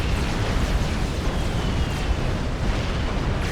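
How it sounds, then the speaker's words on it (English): Artillery fire in the real-time strategy game Supreme Commander: Forged Alliance during a 6v6 match: a dense, continuous roar of booming shell impacts and explosions, loud and close, with no talk. "picking off the string of artillery coming in from Rasco."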